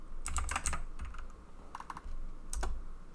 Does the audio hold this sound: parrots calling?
no